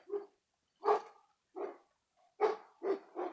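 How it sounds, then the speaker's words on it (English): A dog barks six times in irregular bursts, sharp and fairly quiet, with short silences between the barks. "my dog is greeting our neighbor with the song of our people"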